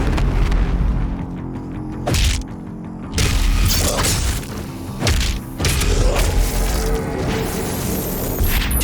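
Heavy melee impacts and explosive booms from combat in the Doom Eternal shooter game, a dense run of loud thuds, crashes and blasts, several big hits punching through continuous close din with no speech.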